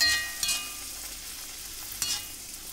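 Poori dough frying on high flame in hot oil, a steady broadband sizzle with two brief bursts of louder bubbling as oil is splashed over the puffing bread; no voices.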